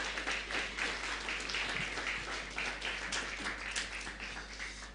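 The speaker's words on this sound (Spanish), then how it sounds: "Una vez más vamos a dar, por favor, fuertes aplausos" A church congregation at a Sunday service applauds in a dense, continuous patter of many hands clapping, sustained at an even level from start to finish.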